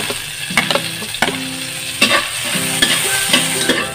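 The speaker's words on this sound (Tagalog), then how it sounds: "pag mainit na po yung mantika natin, lagyan na po natin yung ating bawang" Garlic fries in hot oil in a pan, a close, continuous sizzle broken by sharp utensil scrapes and taps as it is stirred.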